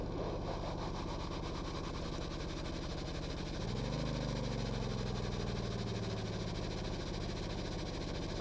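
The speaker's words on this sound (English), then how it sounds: "Start the engine." Boat engine starting and running in the video game Stormworks, a steady loud mechanical rumble whose pitch rises midway as the engine revs up, then settles into continuous running.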